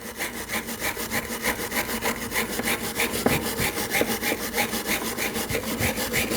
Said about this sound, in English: Using a wire brush, we're going to clean our caliper bracket.